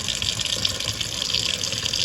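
Water drains through a kitchen sink's plunger-style stopper with a basket strainer, a steady close rushing and gurgling flow that holds level for the whole stretch with no talking.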